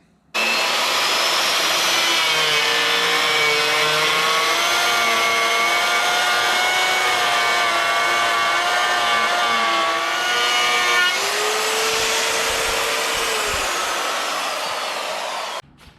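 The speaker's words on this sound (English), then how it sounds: "So I'm going to try to use a router on that." A handheld router cuts a set depth into wood for an expedition truck build-out. Its loud, steady high-pitched motor whine runs continuously, shifts pitch partway through, then cuts off at the end.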